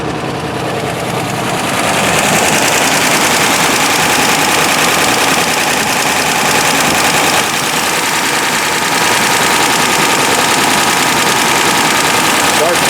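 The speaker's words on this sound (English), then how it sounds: "So it's idling." A 1955 Ford Fairlane engine idles steadily and fairly loud, a continuous rough rumble with a faint knocking texture that swells after the first couple of seconds and holds throughout.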